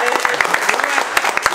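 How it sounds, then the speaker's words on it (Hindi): Applause from an audience at a live electronics repair class, a brief burst of clapping with many quick overlapping claps. "प्लीज उनके लिए थोड़ा सा ताली बजा दो"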